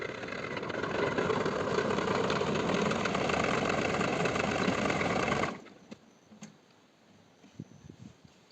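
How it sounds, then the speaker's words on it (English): A loud tractor engine drones steadily for several seconds, then cuts off abruptly, leaving quiet with a few scattered clicks and knocks. "now I have to drive the tractor from here over to here"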